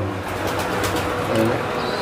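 Fantail pigeons kept for sale coo in low, repeated throaty calls, fairly close, over a steady background hum.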